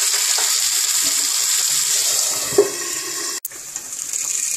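Potato pieces frying in oil on a flat tawa make a steady, bright sizzle that fills the scene, broken by a faint clink and a brief sharp knock near the end, with no talking.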